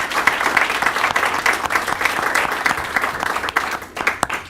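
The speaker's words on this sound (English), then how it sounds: "If we could give them a round of applause." Audience applause at a Lackawanna County Board of Commissioners meeting, marking a county day proclaimed for the Valley View Cougars: steady, dense clapping from a roomful of people that carries on for several seconds before thinning out near the end.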